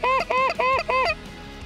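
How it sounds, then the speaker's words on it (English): A goose honks four times in quick succession during a late-season hunt, each call loud, close and evenly spaced before the calls stop. "Kill that goose, Yanni."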